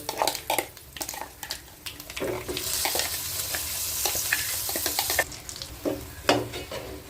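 Moringa leaf chutney tipped into a pan of hot tempering spices, sizzling and frying while a spoon stirs and scrapes against the pan in uneven strokes, with no talking.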